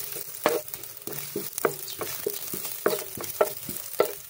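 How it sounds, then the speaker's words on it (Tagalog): Ginger sautéing in hot cooking oil, a steady soft sizzle broken by repeated scraping stirs of a spatula against the pan, close and alone with no talk. "Gisahin lang natin bahagya mga kayaws bago natin siya gagataan."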